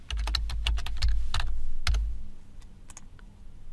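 Computer keyboard keys clatter in quick bursts of close, crisp clicks while a comment is typed, pausing briefly before a few final taps.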